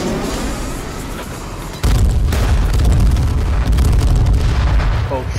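Airstrike explosions in a video game, a sudden loud booming onset followed by sustained rumbling blasts and crackling that keep rolling, with a voice speaking briefly near the end.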